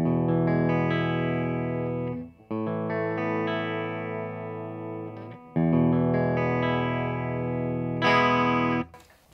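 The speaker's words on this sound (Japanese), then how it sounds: "ギブソンレスポールスペシャルとして今回は弾いていこうと思います" Gibson Les Paul Special electric guitar with P90 single-coil pickups and a mahogany body, played on the rear pickup: crisp, bright chords held for a few seconds each with short breaks, played alone.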